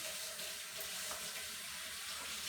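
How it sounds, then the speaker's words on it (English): Hot tap water runs steadily from a kitchen faucet while bread is being made, a continuous close hissing splash without pause or talk. "So I do want to make sure my water's quite hot."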